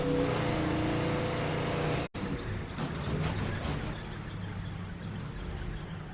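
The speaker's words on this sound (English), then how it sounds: "this car don't sound very healthy" A rough, unhealthy-running car in State of Decay 2 grinds along with ratcheting mechanical rattle and engine drone, cutting out abruptly for an instant before resuming at a slightly lower, steady level.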